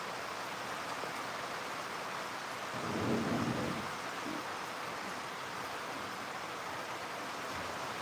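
Heavy rain pours down in a steady, dense hiss, with a brief low rumble swelling midway through before fading back into the downpour.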